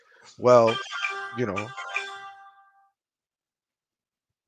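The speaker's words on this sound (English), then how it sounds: "that was you or me. That was my phone." A mobile phone ringtone plays a short run of electronic tones, overlapping and briefly following a voice before cutting off into silence.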